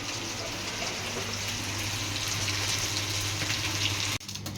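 Fish sizzles steadily in hot oil in a pan at home, a constant hissing fry with a low hum beneath, cutting off abruptly near the end.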